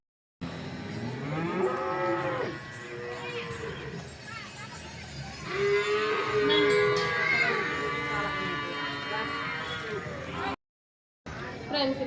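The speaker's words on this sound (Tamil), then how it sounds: "ஃப்ரெண்ட்ஸ் இப்போ வந்து மாடு பார்க்க தான் வந்திருக்கோம்." Cattle moo long and loud, several low drawn-out calls overlapping at close range, in the grounds of a Tamil Nadu Perumal temple, while a person talks in the background.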